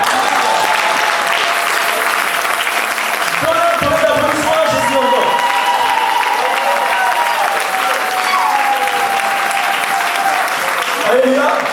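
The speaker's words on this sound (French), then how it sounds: "Donnez-moi un tonnerre d'applaudissement." A church congregation breaks into sustained applause, dense clapping from many hands with cheers and shouted voices mixed in, carrying on steadily throughout.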